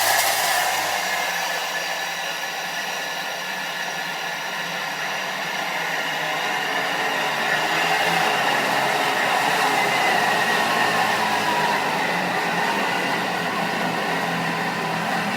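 Blender at high speed grinding peanuts into peanut butter, a loud, steady roaring whir that holds for the whole stretch, with a slight dip and then a rise in intensity partway through.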